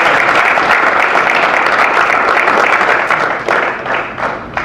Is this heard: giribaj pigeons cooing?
no